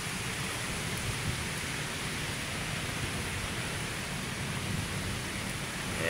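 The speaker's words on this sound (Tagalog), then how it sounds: "Lakas ng ulan." Heavy rain falls over Manila Bay as a steady, dense hiss with no let-up, rain on surfaces forming a constant wash of noise with no voices.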